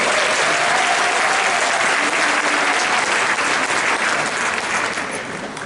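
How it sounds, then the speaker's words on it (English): Big round of audience applause for the performers Black Crow at a university multicultural graduation ceremony, a full, steady clatter of many hands that tapers slightly at the end. "let's give a big round of applause for Black Crow for that powerful celebratory birthday"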